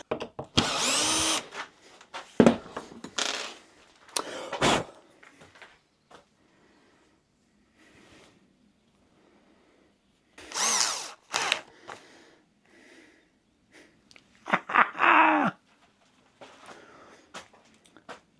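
A power drill whirs in several short bursts while drilling screw holes in a router table top, loud and close, separated by quiet pauses and faint handling noise.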